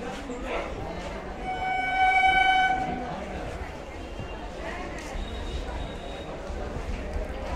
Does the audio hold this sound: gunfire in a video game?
no